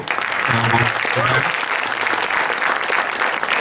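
A crowd at a film event claps together in sustained applause, a dense wash of hand claps at steady loudness, with a brief voice or tonal sound rising over it early on.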